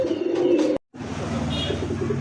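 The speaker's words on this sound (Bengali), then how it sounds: "খুব সুন্দর একটা হাইফ্লার কবুতর" High flyer pigeons coo in a low, rounded, repeated rhythm close by, with a brief cut in the sound partway through before the cooing resumes steadily.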